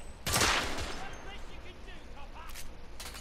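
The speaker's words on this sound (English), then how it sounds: "Press R2 to fire your weapon" Gunfire in the Victorian-era shooter The Order: 1886, a loud blast near the start that fades into a lingering echoing tail, with fainter shot-like bursts later, under a low background hum.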